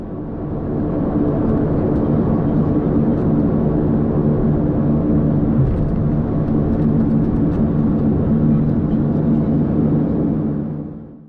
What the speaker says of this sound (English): Now please enjoy this unedited takeoff.